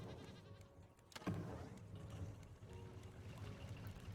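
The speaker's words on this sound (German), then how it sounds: "Wir testen jetzt die Motoren." Boat engines run with a low, steady drone in the survival game Raft, holding evenly throughout the clip with a brief bump partway through.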